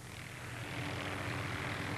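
An Apache military helicopter with a movable infrared camera in its nose flies past, producing a steady, fairly loud engine and rotor drone that holds for about two seconds.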